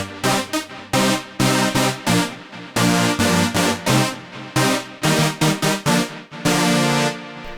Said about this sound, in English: B-4, and that's the brass fanfare sound.